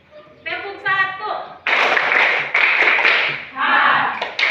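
Classroom of students clapping on their teacher's cue, several loud broadband bursts of claps in quick succession, following a woman's spoken count; voices are heard around the claps.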